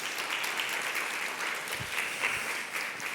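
Steady applause from an audience at a WordCamp conference, a dense patter of clapping hands that continues without a break, slightly distant.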